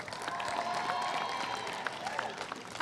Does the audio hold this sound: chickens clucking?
no